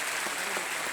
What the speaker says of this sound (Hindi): एक बार फिर तालियों के साथ अभिनंदन।